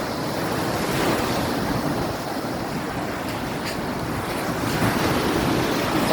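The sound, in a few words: large ocean waves breaking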